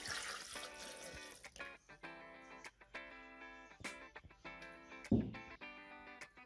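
Milk pours into a glass for a strawberry shake, with liquid splashing and trickling in several short runs over a faint tonal background.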